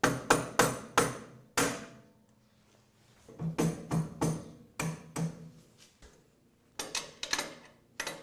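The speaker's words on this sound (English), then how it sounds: "So now I'm just going to go on each end and lightly tap it up." A hammer lightly taps the mounting rail of a Hammer N4400 extension table, in quick clusters of sharp knocks separated by pauses, close and clear with no talking.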